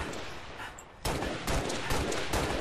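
Rapid bursts from a Covenant weapon in a Halo multiplayer match, a series of loud, close, crackling shots in clustered volleys over a couple of seconds.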